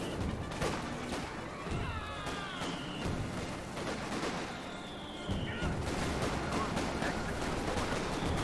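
Company of Heroes 2 battle plays out with repeated gunshots and cannon-like impacts among tank and infantry combat, a dense, continuous clatter with whistling projectiles heard alongside.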